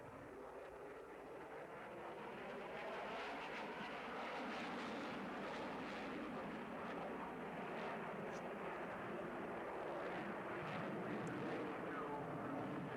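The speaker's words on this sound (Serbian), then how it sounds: "Evo još jedne figure koju izvodi Su-27." A Su-27 fighter jet flying aerobatics at the 1994 Farnborough air show roars continuously overhead, a broad distant engine rumble that builds over the first few seconds and then holds steady.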